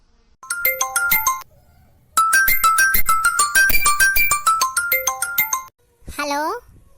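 A mobile phone rings with a loud, bright electronic melody, playing in two bursts with a short pause between them, followed by a brief rising tone at the end, in a home setting.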